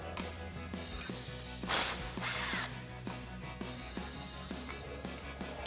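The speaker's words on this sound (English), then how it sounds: "take a 15mm swivel socket and remove our brake line bracket" A 15mm swivel socket turns a brake line bracket bolt loose on a Jeep Gladiator JT's suspension, giving repeated faint ratcheting clicks in a steady rhythm with a brief scraping swish partway through.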